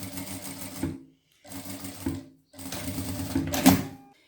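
Sewing machine running three short bursts, stitching a small pleat seam in fabric for a trapeze dress, each burst rattling steadily and close before stopping.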